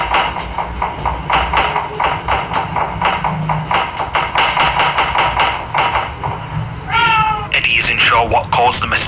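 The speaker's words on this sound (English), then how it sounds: "Yung pusa." After a run of rhythmic knocking and muffled voices, a cat meows a couple of times near the end, fairly close.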